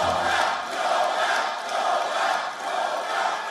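A crowd of supporters at a Donald Trump rally in Michigan chants in unison, loud and rhythmic, the massed voices swelling and dipping in regular waves across the whole stretch.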